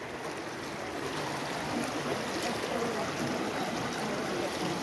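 A flood-swollen river rushes through Kawasoti municipality, its steady, dense roar filling the whole stretch without a break.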